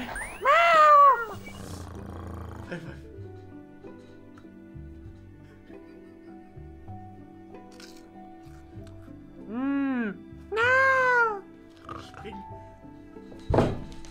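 Cat meows from the video game Stray, a few separate meows early and late in the clip, with a thump at the end and quiet game ambience between.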